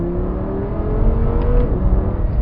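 A 2014 Audi R8 V10 in sport mode revs up with a loud, close, rising engine roar that holds steady and swells slightly, with no talking over it.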